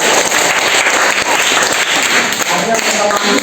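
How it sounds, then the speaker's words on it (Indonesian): A classroom of students clapping together during a Catholic religious education lesson, loud dense applause running steadily throughout with no pauses. "tepuk tangan dulu"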